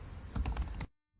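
Quick burst of typing on a computer keyboard while writing code, several close, crisp key clicks over under a second, then an abrupt stop into near silence.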